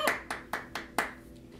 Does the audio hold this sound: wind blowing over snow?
no